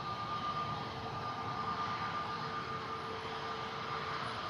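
A jet airliner departing Manchester Airport, heard as a steady, loud broadband engine roar with a faint whine running through, holding at an even level throughout.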